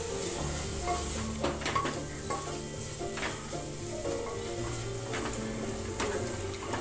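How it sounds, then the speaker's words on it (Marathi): Ingredients sauté in a cooking pot with a constant close sizzle, broken by scraping stirs and occasional light clinks of a utensil against the metal. "हा देखील आपल्याला यामध्ये छान परतून घ्यायचा आहे."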